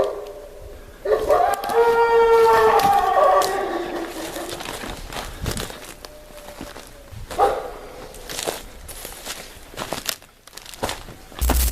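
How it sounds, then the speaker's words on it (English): Wolves howl close by at a campsite: one long, wavering howl rises near the start and holds for about two seconds. Shorter howls and scattered knocks and rustles follow through the rest. "Wolves often circle and howl to communicate with the pack and drive away intruders."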